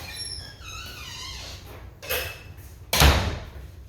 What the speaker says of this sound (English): As we answer the door.